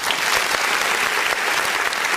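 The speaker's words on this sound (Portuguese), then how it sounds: "Vamos aplaudir o nome do Senhor Jesus." A church congregation applauding during a Sunday communion service, loud dense clapping that fills the room evenly from start to finish with no break.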